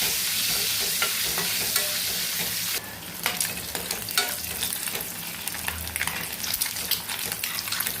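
Eggs sizzle and crackle in a hot pan, a bright steady fry that drops slightly in level partway through, followed by irregular pops and spatters with occasional utensil contact.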